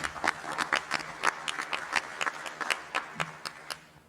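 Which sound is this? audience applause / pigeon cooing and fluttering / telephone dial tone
audience applause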